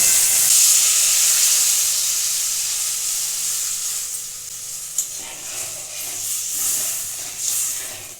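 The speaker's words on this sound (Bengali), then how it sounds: "দেখুন মশলাটা থেকে তেল ছেড়ে দিয়েছে, এখন এতে আমি দিয়ে দেবো জল" Water poured into frying spice paste in a pan, a loud, bright hiss and sizzle that bursts at first and slowly fades, with a few stirring scrapes near the end.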